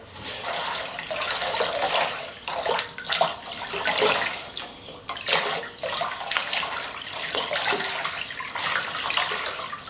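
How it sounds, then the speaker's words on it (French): Water sloshes and spills over as a meteorite stone is plunged into a filled container, so the water overflows. The splashing and trickling runs continuously and close, with bursts of bright splashes and no talking. "Je vais plonger cette pierre dans cette eau et le volume d'eau qui va être chassé représentera le volume de la pierre."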